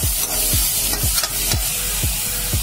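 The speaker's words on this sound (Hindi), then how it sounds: "अब हमारी सब्जियां थोड़ी भून गई है" Vegetables frying and being stirred in a pan, a steady sizzle with regular scraping strokes of a spatula roughly every half second, close and continuous with no talking.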